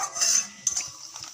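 A spoon clinks and scrapes in a pan while mustard seed, cumin and dried red chillies are stirred in a tempering, a couple of short metallic taps over light frying sizzle.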